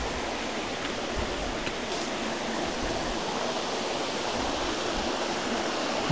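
Tigalay Falls waterfall after rain, a steady broadband rush of falling water with no voices, heard at a moderate, even level throughout.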